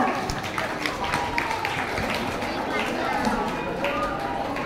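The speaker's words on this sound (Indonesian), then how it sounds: "Berikan tepuk tangan untuk semuanya" An audience at a school student council candidates' debate applauds, a dense, continuous spatter of hand claps in a hall with voices mixed in.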